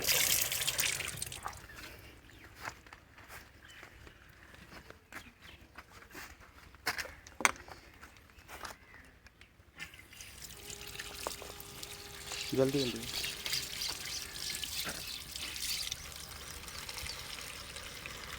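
Hot water runs while a milking machine is washed out, a steady hiss of pouring and splashing with a few drips, and a voice briefly speaks over it.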